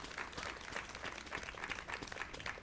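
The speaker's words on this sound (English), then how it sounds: "give a round of applause to that" Audience at an outdoor historical marker dedication ceremony for the Kiah House Museum, applauding steadily, faint and somewhat distant, with no talk.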